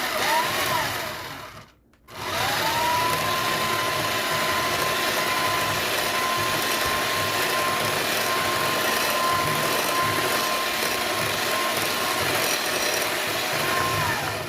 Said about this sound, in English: Now you can beat this up with your hand, but I'm just going to use my hand mixer.